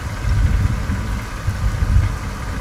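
A tank engine idling in the ArmA 3 war game, a deep continuous rumble with slight throbbing, steady and close with no talk over it.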